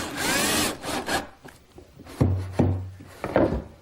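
A drill bores a pilot hole for a screw in a wooden workpiece. Several short whirring bursts of varying length come close up, with brief motor whines between pauses and no voices.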